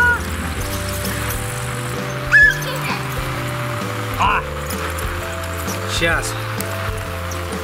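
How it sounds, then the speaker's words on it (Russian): Water filling a children's inflatable water slide pool outdoors, a continuous hiss and trickle of running water with occasional splashes, heard under nearby talk. "сейчас наш бассейн наберется водой"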